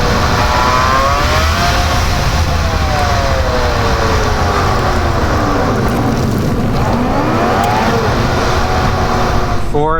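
Turbocharged Subaru car driving slowly around a parking lot, with a loud steady engine drone inside the cabin and rising and falling tonal whines as the revs shift, a voice briefly audible underneath.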